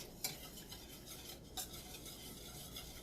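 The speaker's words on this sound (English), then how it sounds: "You're going to whisk that in. Let me get all the lumps out." A whisk working sauce in a pot to break up lumps for an Italian sausage and mushroom pot pie, with soft, faint continuous stirring and a couple of light metallic taps against the pot; no talking.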